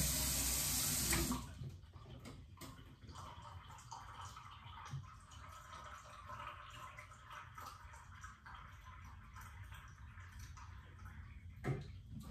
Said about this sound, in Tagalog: Lagyan ko ng malamig na tubig.